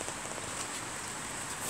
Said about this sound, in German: Könnt ihr sehen, wie es regnet?